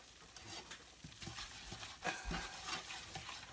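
Bacon grease and low-carb flour mix stirred in a frying pan, soft scraping strokes and occasional light taps over a faint steady sizzle, quiet and close, with no voices.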